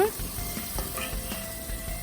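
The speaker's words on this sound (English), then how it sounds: "I just want it to fry up in that onion and garlic mixture." Soft sizzling of chicken frying in onion and garlic in a pan outdoors, a quiet steady crackle with faint clinks and kitchen noise.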